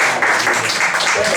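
A church congregation applauding during a Spanish-language worship service in Lima, Peru; a steady, dense wash of clapping fills the short moment without a break.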